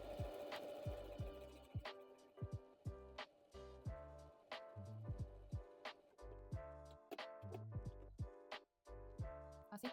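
A sewing machine stitches fabric in short rhythmic bursts, its needle thumping out rapid mechanical pulses with brief pauses between runs as the presser foot is lowered and sewing continues, close and alone.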